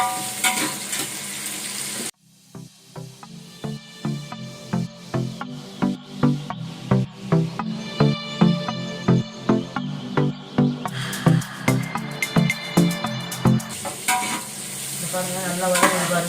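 Tomatoes sautéing in a pan for seppankizhangu kara kuzhambu, a continuous sizzle with a steady rhythm of spoon strokes and scrapes against the pan, close and fairly loud.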